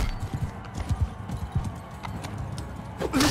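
A steppe horse galloping in the game Mount & Blade II Bannerlord, with a steady rhythmic clip-clop of hooves close by, fairly quiet, and a brief whinny at the end.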